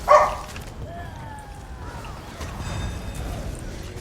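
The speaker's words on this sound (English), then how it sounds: "Just hope that I have a freaking dog yapping away like this." A small dog yaps with a sharp opening yelp, followed by softer whining and whimpering. The sounds are close but fairly quiet, with faint tones and noise in the background.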